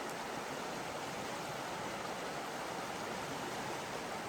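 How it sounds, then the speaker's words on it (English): The Nooksack River rushes steadily past a forested campsite, a dense, even hiss of flowing water at moderate distance, unbroken and without voices. "You can see the river flowing by"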